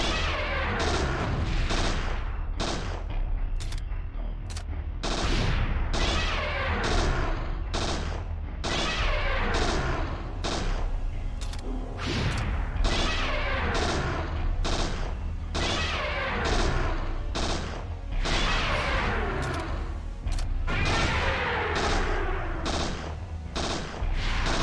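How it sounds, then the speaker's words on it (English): A grenade launcher fires over and over in Parasite Eve 2, with sharp, loud blasts in a rapid, fairly regular barrage that continues throughout. "normally the grenade launcher actually does about 300 damage per shot"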